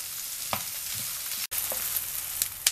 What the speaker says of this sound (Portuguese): E agora nós vamos deixar essa cebola picadinha refogar bastante com alho e com a banha.